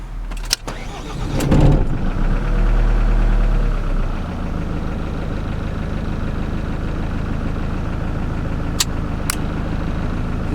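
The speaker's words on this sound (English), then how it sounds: "The little second click was that voltage sensing relay flicking in." A Ford Transit ambulance camper engine cranks and starts with a couple of clicks from relays switching on, then settles into a steady loud idle with faint further clicks later.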